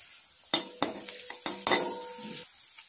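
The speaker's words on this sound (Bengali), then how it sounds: "হাফ চামচ রসুন বাটা দিলাম, নাড়ব। আদা বাটা দিলাম," Garlic and ginger paste sizzles in a pan while a spoon stirs it, with a few sharp clanks and scrapes against the pan over a quiet fry.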